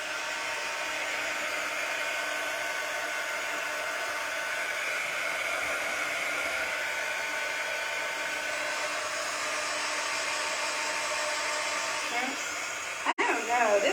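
A hair dryer blows steadily and loudly up close over chalk-painted craft trees, a constant whooshing hum that shifts slightly near the end before a sharp click as it switches off.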